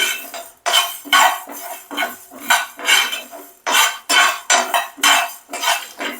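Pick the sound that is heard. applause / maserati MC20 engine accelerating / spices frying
spices frying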